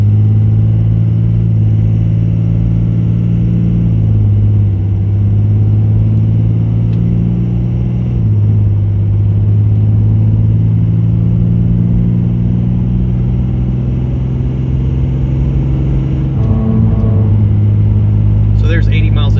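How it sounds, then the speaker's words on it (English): A Cummins diesel truck accelerates on an interstate up to 80 mph. A steady, loud engine drone and road rumble come from inside the cab and hold throughout the clip, with the pitch shifting slightly as the truck gears up. "We're gonna accelerate, go ahead and cruise up to 80 miles an hour on this interstate up here."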